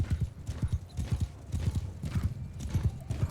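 Hooves thud in a steady galloping rhythm as a horse runs across open ground in Mount & Blade II Bannerlord, close and moderately loud, with no talk over it.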